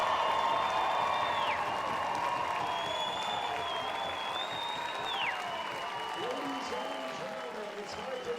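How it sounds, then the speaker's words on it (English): Baseball crowd at an Okotoks Dawgs versus Sylvan Lake Gulls playoff game applauding and cheering steadily for over eight seconds, a dense, loud wash of clapping with whistles and shouts, commentators talking over it. "Listen to this crowd."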